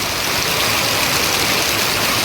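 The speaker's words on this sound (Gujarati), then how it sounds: "વરસાદ જ એટલો પડે છે અત્યારે" Heavy evening downpour in a village, a loud, dense, unbroken roar of rain pouring down close by with no pauses or voices.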